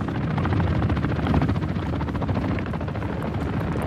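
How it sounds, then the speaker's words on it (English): A helicopter in the video game Call of Duty: Modern Warfare 2 DMZ, a loud, close, continuous rotor thumping and engine roar that fills the whole stretch. "Get out of there, helicopter."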